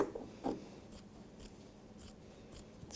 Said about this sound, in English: Always use your scissor cutting away from you